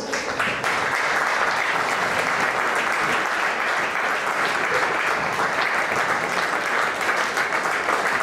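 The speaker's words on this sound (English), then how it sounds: "Please give them a round of applause." Steady, sustained applause from a large crowd at a college football match between Gower College and York College, a dense clapping wash that holds at an even level throughout.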